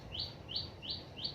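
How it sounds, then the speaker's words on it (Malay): Small birds outdoors on a holiday morning give four evenly spaced, high, sharp chirps in a steady rhythm, moderately faint over low background hum. "Bunyi burung ada."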